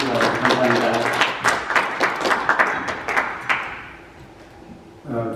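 An audience at a church council meeting applauds, dense clapping for about three and a half seconds that then thins and fades, followed by a brief voice.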